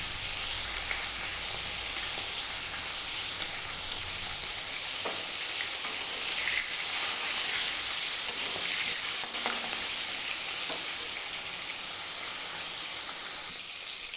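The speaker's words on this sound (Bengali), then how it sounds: "এবার একে একে মাথাগুলোকে ছেড়ে দেবো, দিয়ে একটু কড়া করে ভেজে নেব।" Fish heads frying in hot oil in a wok, a loud continuous close sizzle and hiss with occasional stirring sounds, no talk.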